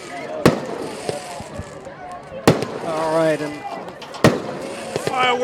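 Three sharp fireworks bangs at a high school football game strike a couple of seconds apart, loud and close, over a murmuring stadium crowd with voices and cheers in between.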